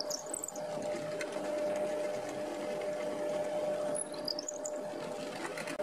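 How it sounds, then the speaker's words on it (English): Holes drilled through wood with a power drill for the wiring of an LED infinity mirror, a steady close motor whine running for several seconds, dipping briefly partway through, with faint chirpy squeaks above it. "I drilled holes through the wood at the marked locations"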